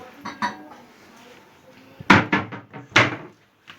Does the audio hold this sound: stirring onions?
yes